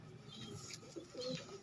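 Pigeons in a breeder loft in Faisalabad give soft, low coos over a quiet background, a few faint murmuring calls close together.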